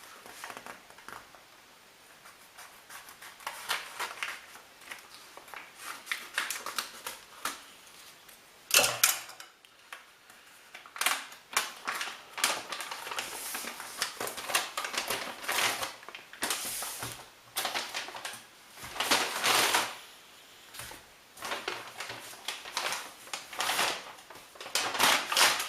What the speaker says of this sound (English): this is vacuum packed, so this time I will use scissors